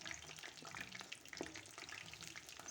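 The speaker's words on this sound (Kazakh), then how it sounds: "Міне біздің балығымыз қуырылуда." Fish pieces coated in batter frying in hot oil, a faint, steady crackling sizzle with tiny pops.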